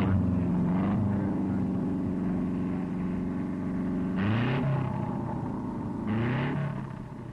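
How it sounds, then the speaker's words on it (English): A 1956 MG record car built for sprinting at the Bonneville Salt Flats, its engine started by a power unit, drones steadily with a harmonic hum and two sharp revving swells near the end. "The engine is started by a power unit."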